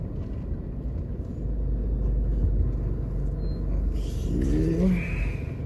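A car driving through city streets in Jamaica, past call center complexes, with a steady low engine rumble and road noise throughout, swelling slightly as it moves along, plus faint passing traffic sounds near the end.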